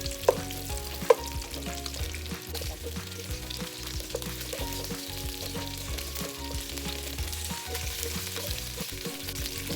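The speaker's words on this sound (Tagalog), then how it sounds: "naprito natin sila ng mga 2 minutes lang" Pieces of pork asado fry and brown in a pan with a steady, crackling sizzle and occasional louder pops. The sound is soft and continuous, with no talking.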